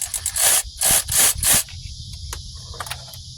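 A stubborn nut being worked loose during Ford Focus starter removal, with four loud rasping ratchet strokes in quick succession up close, followed by quieter scattered clicks and handling.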